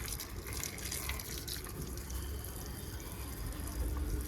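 Water poured into plant pots, a continuous soft splashing trickle, faint and steady throughout with no voices.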